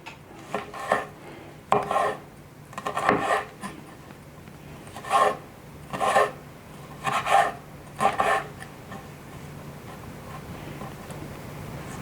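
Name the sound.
cutting lime into cubes on a board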